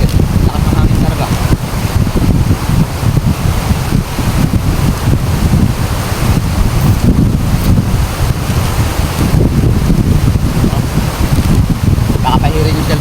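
Strong gusting wind blowing among big rocks on a shore, roaring loud and steady against the microphone throughout, with surf-like rumble underneath.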